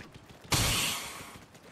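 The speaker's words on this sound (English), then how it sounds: "The parry fucking sound effect?" A parry sound effect from the video game Getting Llama to Eggsecutive VP 3 cuts in as a single loud, sharp metallic burst that rings briefly and fades over about a second.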